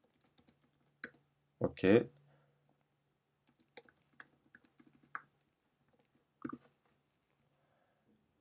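Someone types account details on a computer keyboard, producing scattered bursts of crisp key clicks separated by pauses, with a brief spoken word in between.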